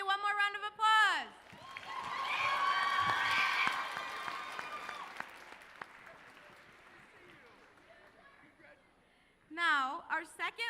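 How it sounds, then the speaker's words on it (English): An audience applauds at a school assembly: a burst of clapping builds, peaks and then slowly fades, with a voice speaking briefly before and after it. "Let's give Lily one more round of applause."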